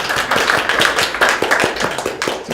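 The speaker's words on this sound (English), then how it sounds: "give yourself a round of applause" Audience applause at a Kanban talk on organisational change, a room of people clapping together in a dense, steady burst of many overlapping hand claps that fills the whole stretch.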